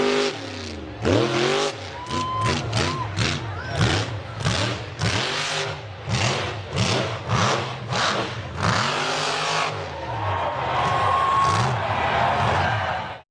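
An off-road buggy's engine revs hard in repeated surging bursts as it struggles up a steep rock ledge, loud and close, with a steadier high engine drone toward the end.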